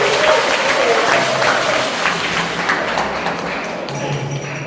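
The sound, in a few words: audience clapping for a guest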